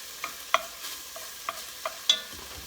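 A spoon scrapes and clinks through soup seasoned with fennel in a pot, several sharp taps and knocks spaced unevenly over a faint background sizzle.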